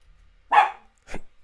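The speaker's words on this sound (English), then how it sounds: "That's my dog." A dog gives two sharp barks, a louder one followed half a second later by a shorter, softer one, close by in an otherwise quiet room.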